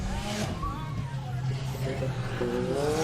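A race car approaching at the TEXPLEX race, its engine a rising, droning roar that builds toward the end, heard under continuous announcer talk.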